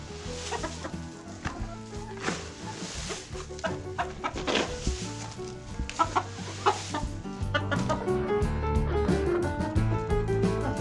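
Black leghorn chickens cluck and chatter continuously in a busy coop, several birds close by and overlapping with no pauses.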